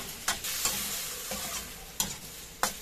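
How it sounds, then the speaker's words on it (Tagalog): Pork chunks for caldereta sizzle steadily in a pan while being stirred, with a constant frying hiss broken by a few sharp scraping strokes of the spatula. "Iprito lang po natin ito hanggang sa ito po ay mag light brown"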